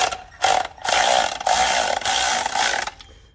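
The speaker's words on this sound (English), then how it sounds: "I'm not tightening down the bolts all the way." A ratchet tightens the clutch pressure plate bolts on an Acura RSX Type S in short, close, rapid clicking bursts, about five strokes separated by brief pauses.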